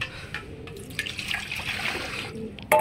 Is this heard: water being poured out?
yes